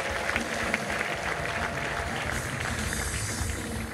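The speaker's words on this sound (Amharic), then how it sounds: "ለዚህ ጌታ እልልታና ጭብጨባ አብዙለት እስቲ።" A church congregation claps and ululates together at a Christian worship service, producing a dense, steady, roaring wash of applause with high, cheering voices mixed in throughout.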